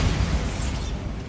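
The Bombarda explosion spell goes off in Hogwarts Legacy, a short, heavy blast with low rumble and a bright crackling hiss that fades quickly.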